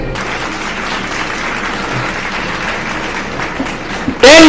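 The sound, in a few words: audience applause at a quiz competition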